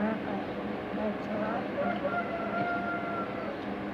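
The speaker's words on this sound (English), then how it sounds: "Shut up, Rooster." A rooster crows at a distance, its drawn-out call rising faintly above a dense, steady background murmur of farm noise throughout.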